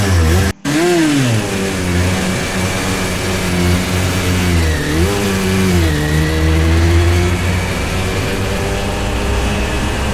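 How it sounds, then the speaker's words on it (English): Yamaha TZ 350 Spondon racing motorcycle at a Snetterton classic race meeting, its two-stroke engine held at a loud, steady rev with pitch swells and dips, one brief cut near the start, close by. "first bike out for practice is the Yamaha TZ 350"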